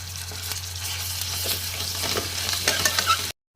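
Oil sizzles steadily in a pan as mustard seeds, onions and ginger-garlic paste go in for a bottle gourd fry, with light stirring clicks over a continuous hiss.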